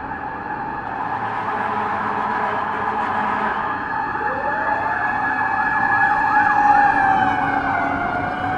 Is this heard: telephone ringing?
no